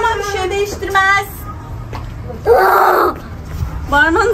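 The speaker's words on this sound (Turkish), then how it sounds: "Ya ağlaman bir şey değiştirmez." A young child cries and screams in a shop, with loud wailing bursts and sobbing breaks rising over an adult talking nearby.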